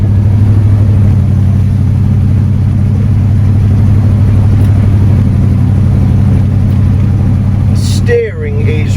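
A 1974 Cadillac Superior hearse pulls away slowly, its V8 engine a low, steady rumble heard from inside the car, with a brief rustle and knock near the end.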